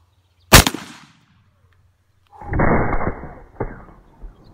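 A single rifle shot fired during a high-velocity test, recorded outdoors: one sharp, loud crack with a short decaying tail, followed after a pause by a longer broadband rumble and a second burst of noise.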